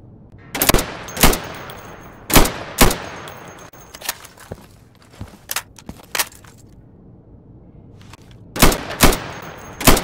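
Rifle shots in Insurgency punch through plywood targets in a firing range, loud close cracks fired singly and in quick pairs with short gaps, each followed by a brief splintering rattle and fading echo.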